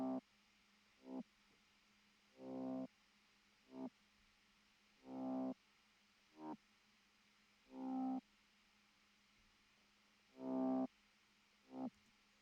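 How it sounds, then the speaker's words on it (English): Top bass synth sound made with Spire: a repeating pattern of short staccato notes alternating with longer held tones, fairly quiet, heard alone with no talking. "This is the top bass. I also created with the Spire, this one."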